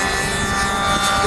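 An 80 cc engine drives a large model aerobatic airplane, a Gilles 202 with a 2.6 m wingspan, at a model aircraft meeting, giving a loud, steady, buzzing drone that holds for over a second.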